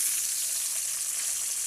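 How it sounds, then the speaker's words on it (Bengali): Pointed gourd pieces fry in oil left over from frying fish, giving a continuous bright sizzle, close and loud, with no talking. "এবার এই তেলেতেই পটলগুলো দিয়ে দিব,"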